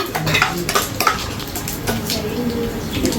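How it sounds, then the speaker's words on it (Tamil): Chopped onions and green chilies sautéed in a pan, a close ladle scraping and clinking against metal in quick uneven strokes over a soft underlying sizzle. "வெங்காயம் சேர்த்துட்டு இது கூடவே பச்சை மிளகாய் அதையும் சேர்த்துட்டு வதக்கிக்கோங்க"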